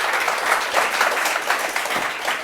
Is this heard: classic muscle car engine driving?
no